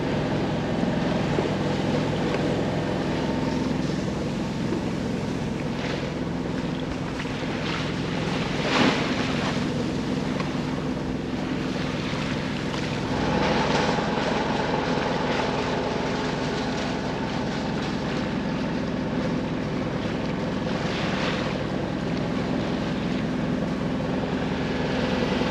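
Sailboat motor sailing from Kaneohe Bay to Honolulu, with a constant wash of wind and water rushing past the hull under a low engine drone, buffeting the microphone in gusts for the whole stretch without any voices.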